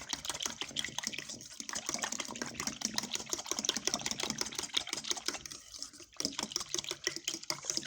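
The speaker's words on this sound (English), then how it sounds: "You can use a regular mixer if you like, but I'm just going to use a fork. But just keep whisking it until it's thickened." A fork whisks a no-bake pudding mixture with Mexican vanilla in a bowl, making a steady, fast scraping and clicking rhythm that continues close and alone for the whole stretch, with one brief pause near the end.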